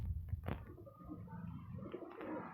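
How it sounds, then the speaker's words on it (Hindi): Soft, low pigeon cooing close by in a quiet setting where pigeons are kept, a few gentle throaty coos with faint rustling. "इस कबूतर के ये पट्ठे हैं"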